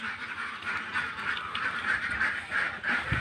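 A flock of farm ducks quacks continuously in a dense, overlapping chorus, fairly close, with steady outdoor background noise.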